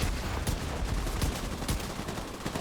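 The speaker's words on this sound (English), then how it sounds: "Getting shot by a mini tank" Fast, steady gunfire from a mini tank in a video game, a dense stream of close, loud shots with regular sharper bangs throughout.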